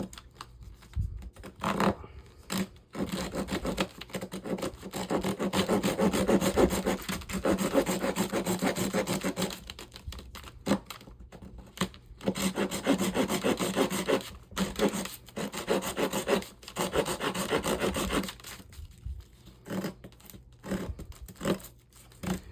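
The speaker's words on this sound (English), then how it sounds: "So this is hardened fat wood, so if it cuts through this, it'll pretty much cut through anything." A Swiss Tech Beilwerk hatchet works into a piece of hardened fatwood, giving a steady rasping, scraping grind in repeated strokes with short pauses between bursts, close up and with no talking.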